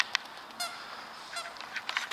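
Waterfowl honk in a few short, scattered calls at a moderate distance over faint outdoor background noise.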